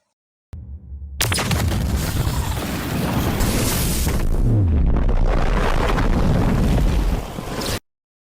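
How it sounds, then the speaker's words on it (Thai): A loud, roaring cartoon explosion from an anime-style fight bursts out after a moment of quiet and rumbles on for several seconds before cutting off abruptly. "ระเบิดมวลสาร"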